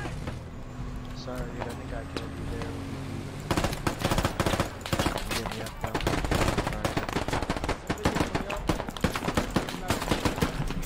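Rapid automatic gunfire in the video game Squad, a fifty-versus-fifty battle in Fallujah during a sandstorm, bursting in dense volleys after a quieter opening, with players talking over the shooting.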